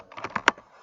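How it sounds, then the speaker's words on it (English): Quick keystrokes on a computer keyboard, a short burst of several taps with one sharper key hit near the end, close and fairly quiet. "now my keyboard is working"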